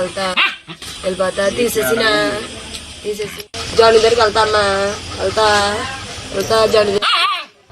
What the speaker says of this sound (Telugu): బోనులో ఉన్న కుక్క దగ్గరకు వెళ్లి